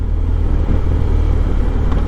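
A BMW R1250GS motorcycle engine decelerating with the throttle closed during downshifts, a loud steady low rumble with heavy wind noise and no distinct rev changes.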